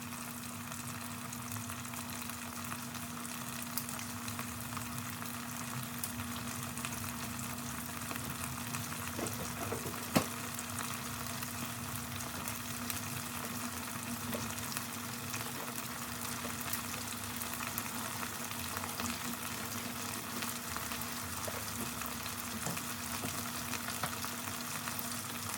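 Turkey tenders frying in a little canola oil in a hot cast iron skillet, giving a steady, even sizzle with no pauses and one brief clink midway.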